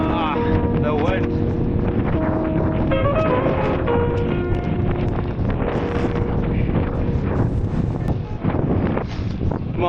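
Heavy, constant wind buffeting a microphone while cycling on a road, a loud roaring rush that fills the whole stretch with overlapping chatter from riders beneath it.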